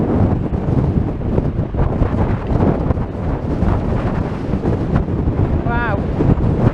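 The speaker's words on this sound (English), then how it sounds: "I'm sure you can hear the wind in the camera, especially when I turn the camera around to face the wind" Strong gusting wind buffets a handheld camera microphone on a seaside promenade, a loud constant low roar with rumbling bursts throughout and a brief faint tonal whistle near the end.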